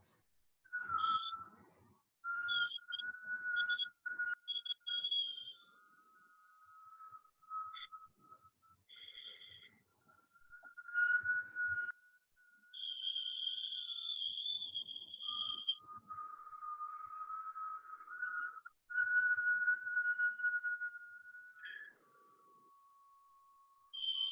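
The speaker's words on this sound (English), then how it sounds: "A long whistle in and a long whistle out." Whistling breath during a Kundalini yoga breathing exercise, a series of thin, high whistles drawn in and blown out, some short and choppy, others long and sustained, close and quiet.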